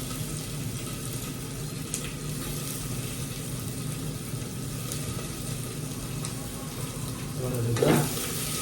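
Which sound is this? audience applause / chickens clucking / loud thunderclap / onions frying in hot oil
onions frying in hot oil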